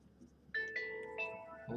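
A phone ringtone chiming indoors during a digital art session, a short melodic run of bright electronic tones starting abruptly, moderately loud against quiet room background.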